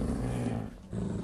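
A low, rumbling growl of a Minecraft wolf, sustained and close, briefly dipping before resuming.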